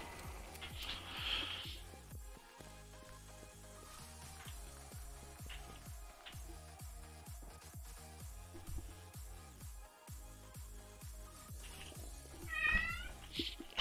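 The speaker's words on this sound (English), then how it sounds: "Apologies, that's my cat." A house cat meows to be let out of a room, with repeated calls at close range and one clear meow near the end.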